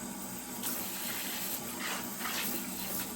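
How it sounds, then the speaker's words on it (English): Running water rinses ketchup-stained, protectively treated fabric, a steady close hiss of splashing flow with faint surges and no talk. "let's see what happens to the treated side when I give it a rinse with water"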